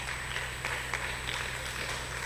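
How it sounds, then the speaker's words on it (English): Audience applause for a school debate team, a steady wash of many hands clapping with a few sharper claps rising out of it, moderately distant and with no talking. "A round of applause for them."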